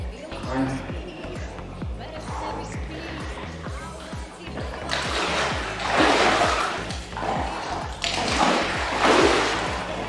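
Cold water splashes and sloshes repeatedly as someone moves in an outdoor bathing pool in a Carpathian village, with people talking and exclaiming in Ukrainian over the splashing.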